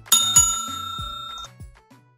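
A bright notification bell chimes twice in quick succession, ringing out with a long sustained tone, followed by a few soft clicks and a small final pop.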